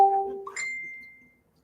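A single doorbell-like ding in two tones, the first note cut off quickly and the second ringing out clearly and fading over about a second in a quiet room.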